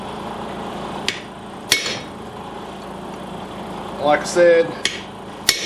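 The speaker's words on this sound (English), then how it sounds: "I just used the 4-inch chisel to get my mark." A hammer strikes a chisel on a railroad spike knife during forging, sounding as several sharp, isolated metallic hits spaced unevenly over a low background hum, with a brief spoken phrase partway through.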